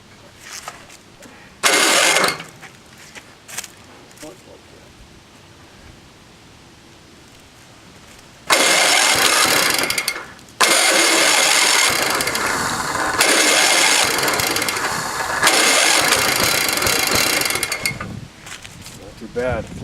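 A vintage, rusty snowblower engine with a freshly cleaned carburetor tries to start with a short burst, then catches and runs loudly in harsh, raspy stretches broken by brief dips and stalls, with quieter mechanical clatter in between.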